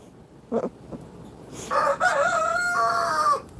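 Rooster crows in a long, loud cock-a-doodle-doo near the end, preceded by a couple of shorter clucking calls, outdoors on a hot day among farm fowl.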